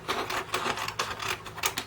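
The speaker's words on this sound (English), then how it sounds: "So I'm going to start out with the scissors for now." Scissors snip through paper in a quick series of short crisp cuts, close and fairly soft.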